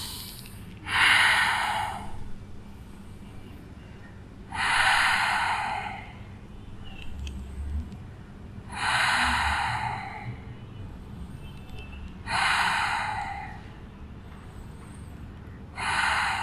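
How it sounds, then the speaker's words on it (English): Steady ujjayi-style breathing held in a yoga pose, downward-facing dog, with five audible breath cycles evenly spaced, each a soft, close hissing rush of air over quiet room noise. "5 breaths here."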